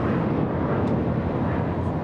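SkyWest Embraer E175 airliner passing at LAX: a steady, loud broadband jet roar that fills the whole moment without a break, up close, with no clear talk over it.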